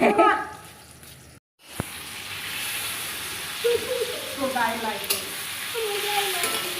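Food frying in hot oil in a shared cooking setting, a steady broadband sizzle with bright spattering crackles and a brief sharp knock, people busy nearby.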